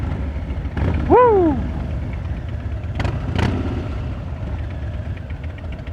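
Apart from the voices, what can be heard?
Harley Davidson Crossbones motorcycle engine on test ride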